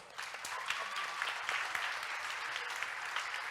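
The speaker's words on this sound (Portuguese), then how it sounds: "Uma salva de palmas para minha equipe maravilhosa" Applause for a church team during a sermon, a soft, distant round of clapping with scattered sharper claps, steady and fairly faint throughout.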